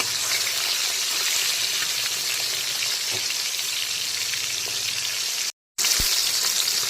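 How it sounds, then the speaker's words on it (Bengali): Pomfret fish fry in hot oil with a steady, loud hiss and crackle that holds nearly unbroken, apart from a brief cut near the end. "এখন কিন্তু পমফ্রেট মাছের উল্টো দিকটাকেও ভালো করে ভেজে নিচ্ছি"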